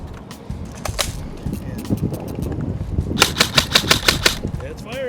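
A Classic Army airsoft rifle fires after a torture test, scattered single shots giving way to a rapid, evenly spaced burst of sharp cracks near the end, loud and close over outdoor background noise.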